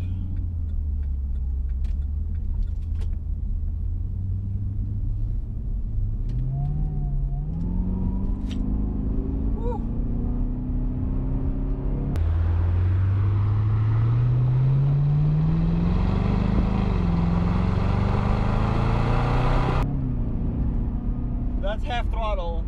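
A 2011 Cadillac CTS-V accelerates at half throttle from a U-turn, engine note rising steadily through two gear changes with a brief shift break, heard from inside the car with road and cabin noise and occasional talk.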